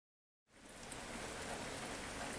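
Steady rain falls after a brief silent opening, a dense even hiss of drops on surfaces that stays constant at moderate level, used as storm ambience in a horror audiobook.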